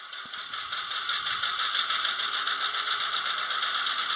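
A steady, rattling diesel engine hum from an HO scale model locomotive with a WOWDiesel DCC sound decoder, humming continuously at close range with no speech.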